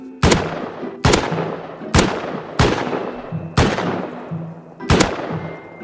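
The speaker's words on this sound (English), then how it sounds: "Someone threw a nade." Five loud, sharp grenade blasts in the Rust video game, evenly spaced about a second apart, each ending in a short rumbling decay, with no talk.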